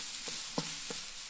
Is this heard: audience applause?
no